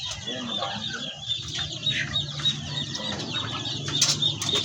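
Backyard chickens in their coop at feeding time, soft clucking and murmuring fowl sounds close by, with a few wing flaps and scattered bird calls, no talking.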